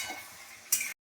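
Chicken frying in a pan while being stirred, a soft sizzling hiss with a brief scraping stir near the end before it cuts off abruptly.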